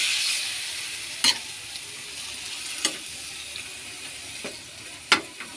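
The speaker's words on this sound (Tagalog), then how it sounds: "At haluin natin ang giniling." Ground meat frying over low heat in a pan with garlic, a steady soft sizzle broken by a few sharp scraping clacks of a utensil stirring against the pan.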